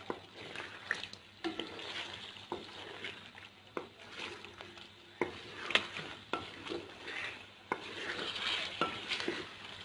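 Chicken karahi is stir-fried in half a cup of oil over high flame, with continuous sizzling and frequent sharp clanks and scrapes of a utensil against the pan.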